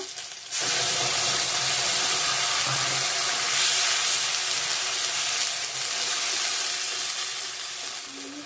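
Ginger and tomato paste fries in a pan for a spicy rohu fish curry with mustard, sizzling loudly and continuously close by with faint stirring scrapes and no talking.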